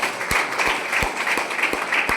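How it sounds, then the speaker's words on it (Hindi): Applause for a guru from a small crowd at a celebration event, a steady patter of many clapping hands with a few sharper individual claps, close and moderately loud, no talking. "एक बार आपके गुरु जी के लिए तालियां"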